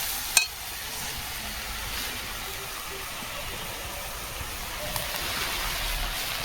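Vegetables fry in hot oil in a rural Indian village kitchen, giving a steady, soft sizzle with a sharp clatter near the start and light stirring sounds.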